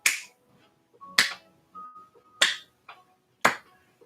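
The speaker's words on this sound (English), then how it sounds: "I clap for you." Four sharp, close hand claps sound alone, spaced roughly a second apart, with a softer fifth clap and a couple of faint electronic beeps between them.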